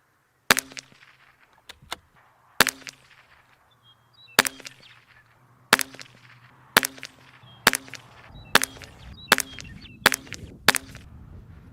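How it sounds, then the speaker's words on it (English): Ten sharp rimfire rifle shots from a Ruger, fired at a steady, slightly irregular pace about a second apart, loud and close with short decays and no talking. "I'm going to shoot two 10-round groups of Center X."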